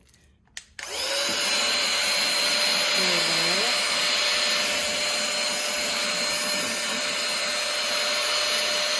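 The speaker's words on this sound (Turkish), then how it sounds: "Şu süpürgeden gerçekten çok memnun kaldım." A cordless vacuum cleaner sucks up spilled corn flour in a home kitchen, its steady loud whine starting abruptly after a brief click and running continuously, close to the mic, with a slight pitch dip midway.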